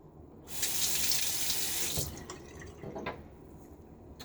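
Tap water runs in a steady hard stream into a sink for about a second and a half while a Gillette Sheraton safety razor is rinsed, then cuts off, leaving a few soft drips and handling clinks.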